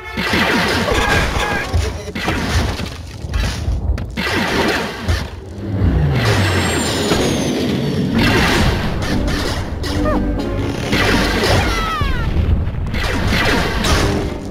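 Cartoonish explosions and smashing impacts from the mobile game Angry Birds Star Wars 2 burst repeatedly over about fifteen seconds, loud crashes and booms layered over game music and effects.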